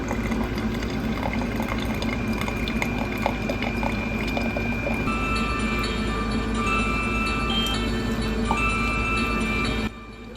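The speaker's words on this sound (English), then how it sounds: "This is the sound of the egg maker." An electric egg cooker signals that its eggs are done, giving a steady bubbling, hissing hum with faint high tones layered over it. The sound runs continuously and close by for about ten seconds, then drops off abruptly near the end.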